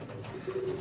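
Coloured race pigeons and fantails coo softly in a shared allotment loft holding about fifteen birds, giving a low, close, rolling call with no talk over it.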